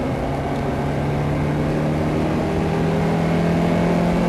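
A car engine at a steady, loud drone on the Knockhill race circuit during a performance driving lesson, with the revs held fairly constant as the driver drops into second gear under braking.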